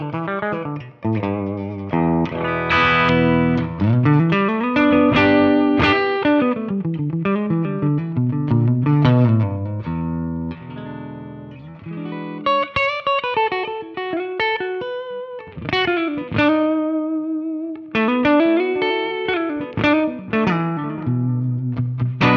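An electric guitar played through a Kemper profiler on the normal channel gives a fat, slightly driven tone with reverb. Single-note lines and chords ring out clearly throughout, with no talking.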